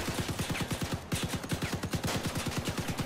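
New weapons firing in the vehicle combat game Crossout, a rapid steady stream of evenly spaced shots rattling continuously for several seconds, loud and close with no talk.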